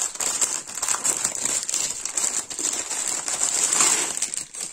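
Plastic packaging from a Harry Potter cross-stitch embroidery kit crinkles and crackles close up during unpacking, in continuous irregular rustling bursts.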